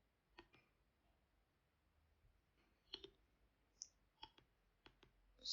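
Mouse clicks while editing a face-deformation Instagram filter: a sparse series of sharp, close clicks, some in quick pairs, spaced irregularly over a quiet background.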